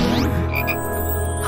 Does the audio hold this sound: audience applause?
no